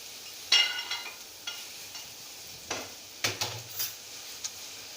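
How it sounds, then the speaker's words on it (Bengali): A spoon is stirred through chicken curry with potatoes and sour yogurt in a pan. Occasional scrapes and clinks sound over a low, steady sizzle, fairly quiet and close. "আবারও আমি নাড়তে থাকব।"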